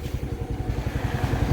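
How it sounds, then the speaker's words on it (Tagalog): Suzuki Skydrive 115 Fi motorcycle engine idling, a steady low rapid putter with an even rhythm, close and continuous with no voices over it. "So mo niyang tingog sa makina. Smooth pa kayo."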